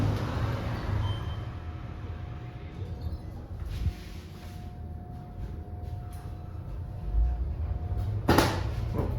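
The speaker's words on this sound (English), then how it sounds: "Doors closing." The sliding doors of a Kleemann Atlas Gigas machine-room-less traction lift close with a low rumbling drag and faint rubbing over a steady hum, ending in a sharp thump near the end, heard close up without speech.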